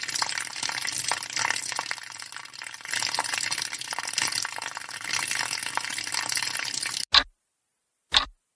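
Water running steadily from a tap during tooth brushing, a fairly loud, continuous hiss and splash that stops abruptly, followed by two brief sharp clicks in silence.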